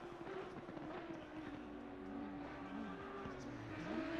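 Race car spinning out at Imola's Variante Alta in the Assetto Corsa Competizione sim, with a steady engine drone and wavering pitch as the car slides, continuous and fairly faint throughout.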